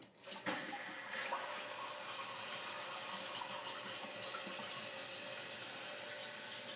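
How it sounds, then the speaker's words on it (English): Water rushing back into the supply line of a Tushy Classic toilet seat bidet after the valve is reopened, a steady hiss and flow that starts abruptly and holds loud and close for several seconds. "Let's turn the water back on and see what happens."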